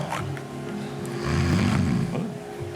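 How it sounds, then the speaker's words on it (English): An actor snores loudly and up close at an awards show, a single long rumbling breath with a rasping, growly tone that swells in the middle and fades out. "See if you can recognize it by the snoring."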